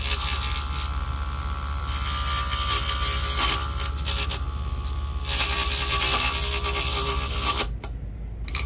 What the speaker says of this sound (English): Testing out the mini Vevor lathe with its provided chisel and rest.